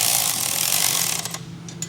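A ratchet clicks rapidly and loudly at first, then slows into a few separate clicks as a nut is tightened while installing a full exhaust on a CFMOTO IBEX 450 motorcycle; no voices.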